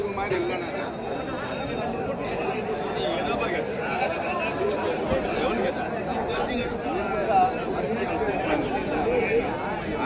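Sheep bleat here and there amid a busy crowd at a sheep market, with voices chattering constantly around them.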